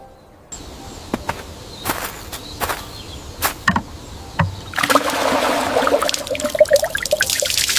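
Water being drawn from a village well in a cartoon: a series of sharp knocks and creaks of rope and bucket, then a loud splashing gush of pouring water that fills the final seconds, close and without speech.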